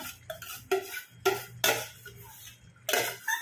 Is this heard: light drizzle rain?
no